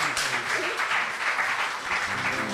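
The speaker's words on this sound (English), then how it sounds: "A round of applause for Stefan and the gang" An audience applauds for Stefan and the band at an evening arts showcase, a brief steady burst of clapping heard at moderate distance, with faint voices mixed in.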